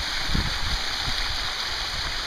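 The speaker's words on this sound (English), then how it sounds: "this is a cultured stone waterfall" Water pours continuously over a cultured stone waterfall into a backyard pool, a steady close rushing splash with low gurgles and no talk.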